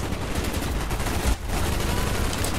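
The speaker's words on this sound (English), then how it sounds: "Oh god, I don't know who's shooting me." Dense gunfire rakes toward the player in Call of Duty Black Ops during a Vietnam mission, a loud continuous barrage of rapid shots with a brief dip in the middle before the firing resumes at full intensity.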